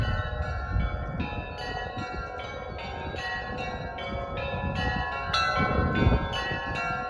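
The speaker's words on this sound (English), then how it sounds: "I love the sound of bells." Church bells in Yaroslavl, Russia, rung by hand on a Saturday morning, ring out in a continuous, overlapping peal, strokes striking in a steady rhythm with a long resonant hum beneath.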